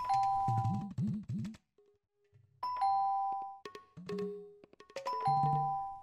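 A two-tone electronic doorbell chimes repeatedly in a comic domestic scene, ding-dong notes ringing out clearly several times with short pauses, alone and fairly loud.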